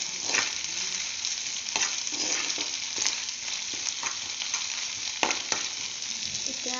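Egg keema masala sizzles and fries in a pan while being stirred, dhaba style, a steady bright crackle broken by repeated scraping clicks of the spoon against the pan, close and moderately loud.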